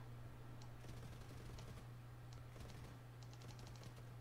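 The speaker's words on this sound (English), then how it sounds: "Yeah, this is what my guns can do." Rapid bursts of aircraft machine-gun fire from a plane in the video game War Thunder, a few short rattling volleys over a constant engine drone, faint overall.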